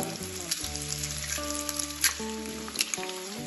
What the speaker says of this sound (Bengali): এবার এই তেলের মধ্যে আমি 2টো ডিম ফাটিয়ে দেব